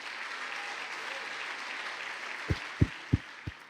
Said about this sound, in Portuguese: Você dava um aplauso para Jesus para fingir que não está com inveja.